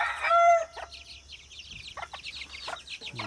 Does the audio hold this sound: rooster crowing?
yes